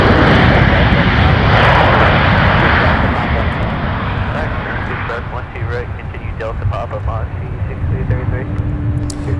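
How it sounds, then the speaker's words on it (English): Delta airliner arriving at MSP airport, a loud sustained jet engine roar that slowly eases as it passes, with a person talking over it. "Delta arriving."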